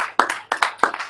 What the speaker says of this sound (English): Round of applause for Drake